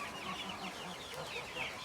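An Indian breed chick raised among village chicks gives soft, repeated clucks and chirps, fairly close and steady, with no talking over it.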